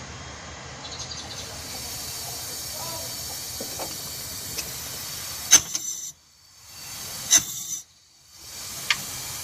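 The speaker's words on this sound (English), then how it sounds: "Let's pressurize the cylinder." Compressed air hissing steadily into an engine cylinder during a valve stem oil seal job, with sharp bursts and pauses as the pressure is cut and reapplied; no talking.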